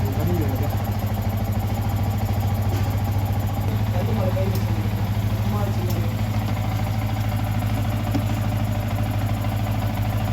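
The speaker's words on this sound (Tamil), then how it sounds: "பைக்கை ஸ்டார்ட் பண்ணி பைக் ஒரு 5 மினிட்ஸ் ரன் ஆகும்." A motorcycle engine idles steadily after starting, a constant mid-low throb with slight knocking texture that stays loud and even throughout, close by.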